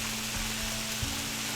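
Jumbo sandwich meat fries on a griddle, a faint, even sizzle with a steady low hum and a couple of soft knocks, no voices.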